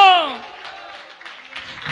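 A congregation at a church service claps hands together. The applause is loudest at the start, then trails off into faint, scattered clapping and murmur, with a voice prominent at the opening.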